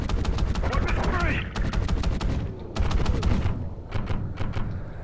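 Rapid bursts of automatic gunfire in the Call of Duty Ghosts campaign, an underwater mission, with quick repeated shots in two clusters separated by a brief pause, loud and close over low muffled rumble, with some speech mixed in.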